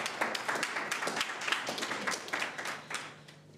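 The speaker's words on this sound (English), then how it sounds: "Another warm round of applause for Ms. Raiza." An audience at a youth entrepreneurship programme launch claps in a brief round of applause, dense scattered hand claps that thin out and fade near the end.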